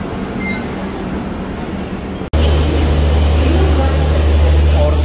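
A train at Guwahati railway station in the evening, a steady rumble of rail noise that drops out briefly and returns louder with a low droning hum, filling the whole stretch with ambient station clatter.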